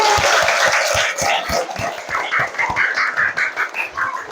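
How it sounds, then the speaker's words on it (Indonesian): Audience applause in a classroom or training session, dense overlapping claps at moderate loudness with some chatter mixed in, fairly close and sustained throughout. "Ya, tepuk tangan dulu."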